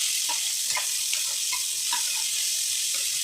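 Sliced onions go into hot oil for a home-style chicken curry, giving a loud, continuous sizzling hiss. Light scraping and stirring taps come through now and then, with no voices.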